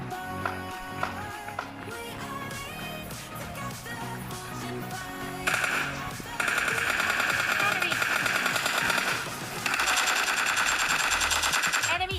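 Rapid automatic gunfire rattles in bursts through PUBG Mobile Lite gameplay, the shots growing louder and denser in the second half over a busy game soundscape.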